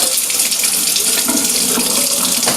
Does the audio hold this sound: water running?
yes